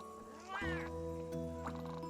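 A cat meows in Monster Hunter 4 Ultimate: one clear, rising-then-falling tonal meow comes in over a sustained game music bed, then a shorter second cry follows.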